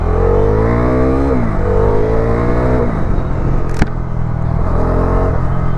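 A Bajaj Dominar 400 motorcycle with a 400 cc engine accelerates hard in a loud, steady roar, its engine note climbing through several gear pulls, dipping briefly between them, with no talk over it.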